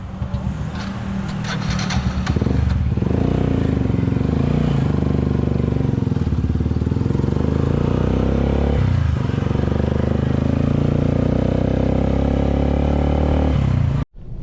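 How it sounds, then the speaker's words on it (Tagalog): An Adson brand motorcycle engine runs close by in a loud, continuous drone with a rattling edge. It swells after the first couple of seconds and cuts off abruptly just before the end. "Nandyan na rin yung motor na Adson brand"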